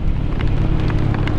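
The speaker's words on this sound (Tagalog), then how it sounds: "Umulan na rito." Steady rain falls in a park during a motorcycle tour, a dense continuous patter with low rumble and no talking.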